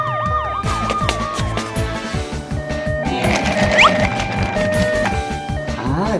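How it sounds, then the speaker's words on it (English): An ambulance siren cycles loudly through rapid wailing sweeps, shifts briefly to a different warbling pattern midway, then returns to quick repeating yelps over a rumbling traffic background. "It's an ambulance. Ambulance."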